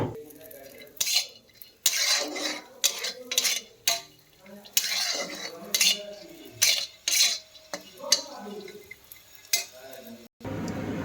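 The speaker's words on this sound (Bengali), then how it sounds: "ঘিটা গরম হয়ে গেলে এবার কাজু কিশমিশটা দিয়ে দেবো, দিয়ে ভালো করে নেড়ে ভেজে নেব।" Cashews and raisins stirred in hot ghee in a pan: repeated scraping and clinking strokes of a metal spoon against the pan, close and fairly loud, with brief pauses between bursts.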